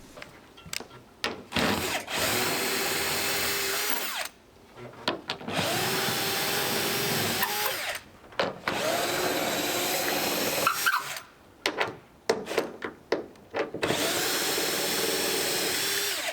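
A power drill whirs in several loud, sustained runs separated by short pauses as it backs 9/16 bolts out of the wooden decking of a jon boat, with rattling and clunks in the gaps.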